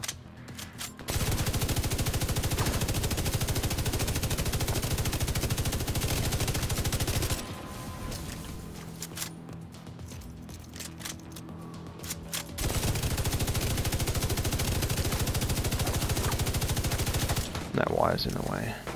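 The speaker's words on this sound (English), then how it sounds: "He's getting shot at though." Gunfire in Tom Clancy's The Division 2, dense sustained automatic bursts that run for long stretches, briefly thin out to scattered shots and then resume, with occasional talk over it.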